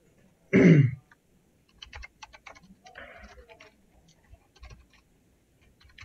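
Code is typed on a computer keyboard in scattered short bursts of soft clicks, preceded by a brief throat clear or cough close to the microphone, with the rest of the room quiet.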